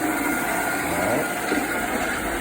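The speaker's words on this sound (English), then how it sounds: "As you see, both brushes are spinning." A counter-rotating brush tile and grout cleaning machine scrubs steadily, a dense continuous whirring rumble with a motor drone running at constant loudness throughout, close by and without pauses.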